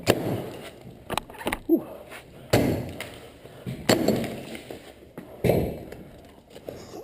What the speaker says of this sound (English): Just use the flat end and bang it hard.